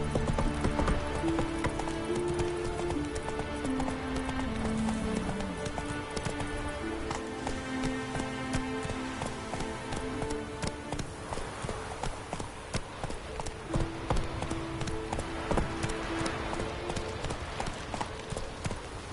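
Horse hooves clip-clop at a steady gallop in The Witcher 3, running continuously beneath game music, with an occasional neigh and brief speech.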